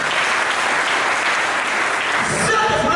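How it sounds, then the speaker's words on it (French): A church congregation at a Sunday service applauding and cheering, dense loud clapping mixed with shouts that holds steady, with voices rising toward the end. "Si tu me comprends, tu peux acclamer pour la gloire."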